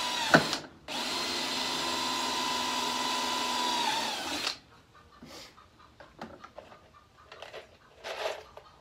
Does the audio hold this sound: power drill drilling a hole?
yes